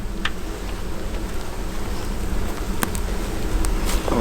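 Honeybees buzz steadily and close by throughout, a dense droning hum from an open beehive, with a few sharp clicks scattered in.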